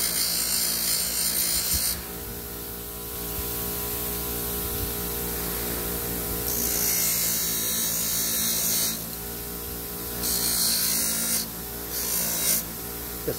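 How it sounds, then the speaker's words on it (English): A polishing wheel buffs a Schwinn Stingray bike pedal, giving a steady hissing whir that swells and eases as the part is pressed against the wheel and pulled away, close and continuous with no talk. "The smoother you can get them with this wheel, the shinier the pedal will come out."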